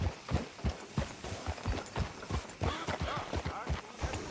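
Horse hooves clip-clop in a steady walking rhythm, close and clear, in the Red Dead Redemption 2 video game, with a faint voice briefly underneath.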